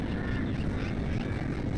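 Birds quack and honk in the video game Classic British Motor Racing, a muffled, continuous low-fidelity squawking under a dense background rumble.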